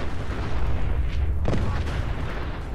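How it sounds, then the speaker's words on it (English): A huge nuclear blast as the ship Yangtze explodes in the video game Fallout 4: a dense, sustained rumbling roar with a sharper burst midway, loud and filling the whole moment. "Oh my god, that explosion kills everyone around me."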